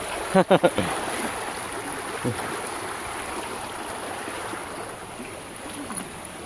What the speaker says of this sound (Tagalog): Ang lakas oh. Ito yung agos oh.